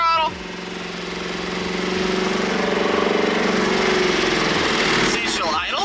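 An Edge-generation Ford Mustang with a swapped GM LS V8 engine is held at full throttle, its strained, droning roar swelling steadily louder before dropping off sharply near the end.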